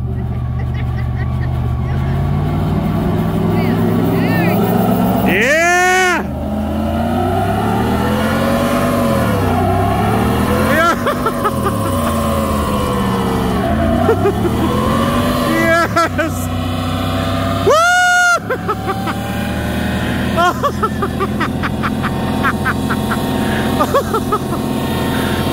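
Car engine revving hard during a break-in run, a sustained loud drone with repeated rising and falling pitch sweeps and sharp bursts, heard continuously throughout.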